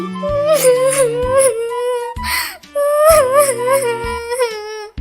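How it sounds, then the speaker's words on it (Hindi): A cartoon bird character cries in a high, wavering voice, two sobbing phrases split by a short breathy gap, loud and close with no other sounds. "टुनटुनी के रोने की आवाज सुनकर हरी काकी वहाँ आती है"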